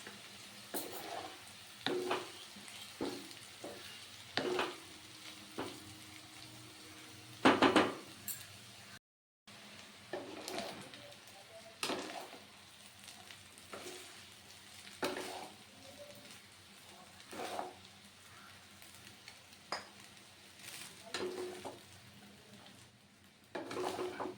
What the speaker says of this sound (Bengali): এবার আমি একটু একটু করে ভাতগুলো দিয়ে নাড়িয়ে চাড়িয়ে নেব আস্তে আস্তে